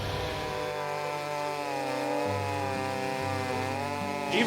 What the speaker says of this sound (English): I do a lot of the chainsaw milling